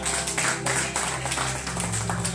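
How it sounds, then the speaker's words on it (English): An audience at a Holy Ghost Encounter church gathering in Vienna, Austria claps for Ricky, giving steady, dense applause that fills the room continuously with no break. "Somebody clap for Ricky."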